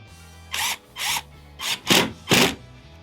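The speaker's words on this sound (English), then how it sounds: "drill another pilot hole." Five short bursts of a power drill boring pilot holes for window trim in a bus conversion, each under a second, with brief pauses between them, close and fairly loud over a low steady hum.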